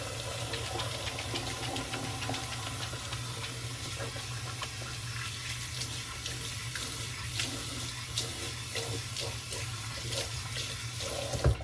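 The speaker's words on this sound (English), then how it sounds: "And y'all heard me splashing water" A tap runs into a sink while hands are washed, giving a steady, close rush of water with scattered splashes throughout.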